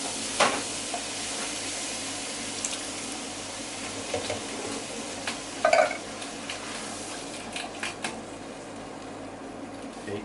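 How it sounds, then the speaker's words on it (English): Two tins of chopped tomatoes go into a sizzling pan of chickpeas, a steady fry with soft stirring scrapes and a few wet splashes and clinks nearby. "I'm just going to add in the 2 tins of chopped tomatoes."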